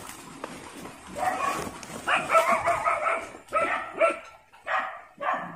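A dog in a forest barks and yips repeatedly in irregular bursts, fairly close, with some whimpering between barks.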